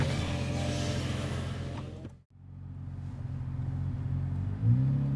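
A Lotus Evora on a test drive, its engine a steady close rumble with a brief drop near the middle before it pulls and revs up again toward the end.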